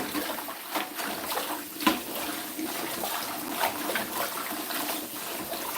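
Water runs from a kitchen tap while fruit or herbs are washed for a green morning juice, a steady close hiss and splash with small bumps and no talk.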